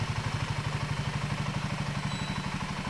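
Royal Enfield motorcycle engine running with a fast steady thump-thump beat and mechanical clatter, close and moderately loud, with no voices over it.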